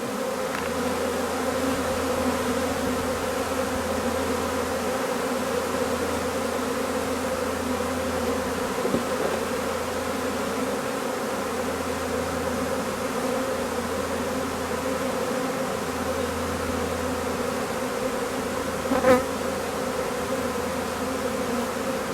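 A dense, continuous buzzing of many honeybees swarming close around a hive, steady and droning throughout with no voices.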